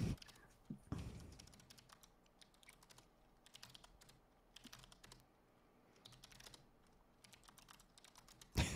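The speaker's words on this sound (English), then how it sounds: "So we put in Jim's password to prove that we are Jim" Soft, close keyboard keystrokes tap out a password in a quiet run of light clicks, with a couple of louder knocks near the start and end.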